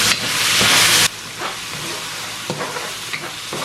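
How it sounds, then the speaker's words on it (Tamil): Deviled fish masala with softened tomato is stirred in a sizzling pan: a loud burst of frying hiss for about a second, then quieter sizzling broken by a few sharp scraping strokes of the spoon. "அதை மிக்ஸ் பண்ணி விடுவேன்"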